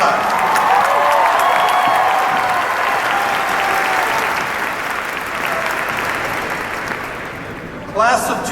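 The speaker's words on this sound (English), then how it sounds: "Let's hear it from Minya one more time" Sustained audience applause fills a Temple University commencement ceremony, a large crowd clapping loudly and evenly throughout before fading slightly, with a brief burst of louder clapping near the end.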